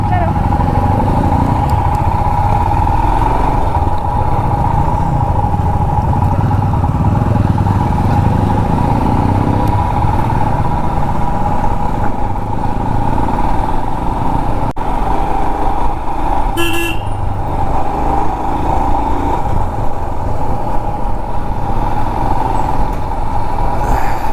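A motorcycle rides the service road beside the Mysuru expressway, its engine and road roar loud and steady throughout, with a short horn toot near the end and other traffic passing close by.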